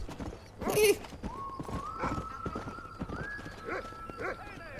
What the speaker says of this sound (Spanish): Creo que podré aparcar mi, mi caballo Jarvis.